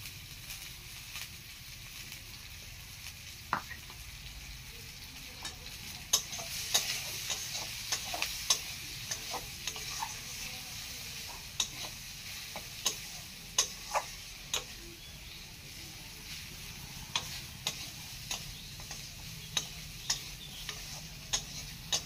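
Potatoes frying with turmeric in a pan give a quiet, steady sizzle, broken by irregular sharp clicks and taps of stirring that come and go throughout.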